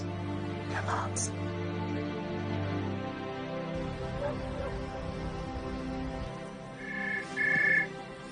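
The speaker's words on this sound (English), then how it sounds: "your phone's ringing, answer." A mobile phone ringtone chirps briefly in a tense domestic drama scene, a short bright burst rising near the end over a low, steady background.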